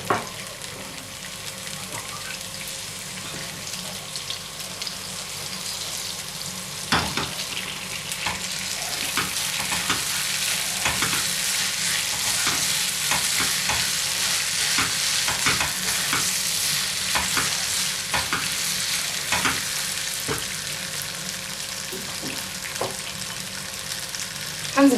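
Rice stirred in a hot frying pot, a continuous loud sizzle broken by repeated scraping stirs over about twenty-five seconds.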